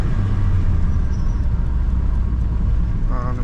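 Low engine rumble and road drone fill the cabin of a daily-driven car with developing mechanical problems, a steady, close hum under way without a distinct gear change.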